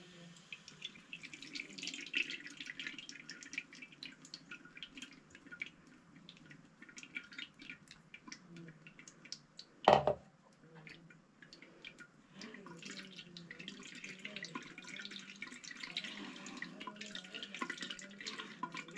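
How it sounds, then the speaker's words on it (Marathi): Goan nachni kapa batter of finger millet strained through a cloth, liquid trickling and dripping steadily at low level for a long stretch, broken midway by one sharp clunk, with no talking. "आनी आतां तें आमकां गाळून घेवंक जाय"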